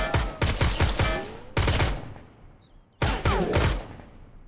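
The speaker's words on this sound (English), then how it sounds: "Oh, he's got a pistol!" Pistol shots in the survival game Mist Survival, fired in three quick bursts of several sharp, loud cracks, each followed by a decaying echo.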